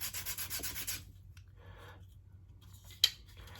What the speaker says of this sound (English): Just rub it on the sanding block a few times.